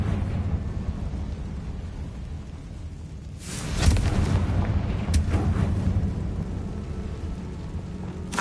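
Confringo fire spell explosion in the video game Hogwarts Legacy, a single deep booming blast that swells partway through and then rumbles on with crackling debris.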